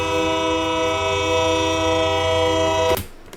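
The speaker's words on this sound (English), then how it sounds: "And then you have the exterior horn right here" Exterior train horn in Train Sim World 6, a loud sustained multi-tone blast held steadily for about three seconds before cutting off abruptly, alone with no talk.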